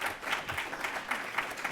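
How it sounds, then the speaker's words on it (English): An audience at an AI speaker series talk claps in a soft, steady patter, faint and somewhat distant, lasting the whole moment without voices. "Big round of applause."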